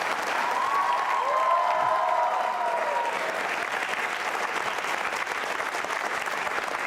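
Loud, sustained applause from a school quiz show audience, steady clapping filling the room for about seven seconds before thinning slightly toward the end.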